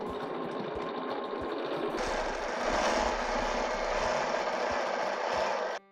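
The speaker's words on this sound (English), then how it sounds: "So now what I want to do is stitch from the right side of my template all the way around to the left side of my template." A sewing machine runs steadily while stitching around a curved teardrop template, a close, continuous mechanical whir that grows slightly brighter partway through before cutting off abruptly near the end.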